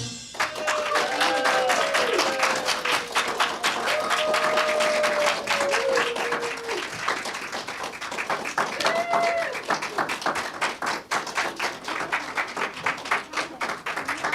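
Sustained applause from a crowd after a fourth-grade school musical, dense rapid clapping throughout, with excited voices and cheers rising over it.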